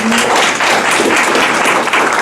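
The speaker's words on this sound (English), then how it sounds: "clap now, because you won't clap later." Loud, steady clapping from an audience welcoming a morning speaker, dense and continuous across the short stretch.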